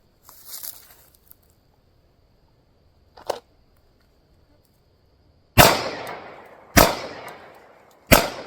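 Three sharp, loud Sig Sauer P226 Mk25 pistol shots at an outdoor range, spaced about a second apart, each cracking out and decaying quickly, preceded by a few faint clicks and rustles.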